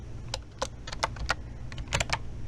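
Steady typing on a computer keyboard, a run of soft, close key clicks in an irregular rhythm, alone in a quiet room.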